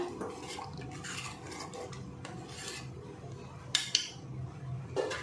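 A cowpea, brinjal and potato curry is stirred in a pot, giving a soft, raspy scraping that repeats at a slow, uneven pace, fairly quiet and close, with a couple of sharper knocks near the end.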